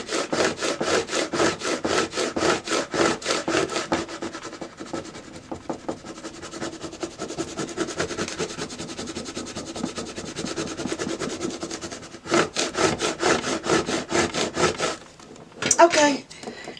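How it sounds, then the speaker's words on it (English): A burnishing tool rubs craft vinyl down in fast, rhythmic back-and-forth scraping strokes, close and steady, pausing briefly midway before resuming, then ending with a short rustle. "let's go ahead and burnish that down"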